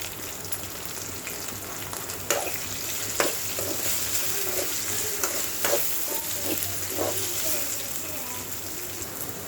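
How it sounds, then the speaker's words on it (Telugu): Raw banana pieces with turmeric and onions frying in a pan, giving an even, close sizzle with scattered sharp clicks and taps of stirring against the metal. "ఉల్లిపాయ ముక్కలు వేగాక కట్ చేసి పెట్టుకున్న అరటికాయ ముక్కలు, కొద్దిగా పసుపు"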